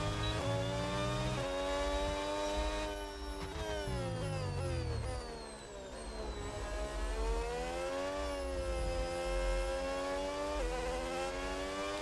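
A Ford-engined racing car in the F1 26 game screams through gear changes, its high-pitched engine rising and dropping in pitch repeatedly, loud and steady with no talking.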